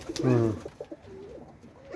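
A Baku fighting pigeon coos close by, one loud rolling coo followed by softer, shorter coos and faint murmurs over quiet background.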